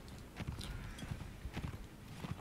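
Horse hooves gallop in the Napoleonic Wars mod of Mount and Blade, a quick, close run of clip-clop hoofbeats that continues steadily throughout, with no talking.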